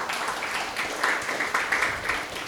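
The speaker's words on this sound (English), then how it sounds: "This needs clapping." Audience clapping at a classical music event, a brief, moderately loud patter of many hands with slight pulsing swells, heard alone without talk.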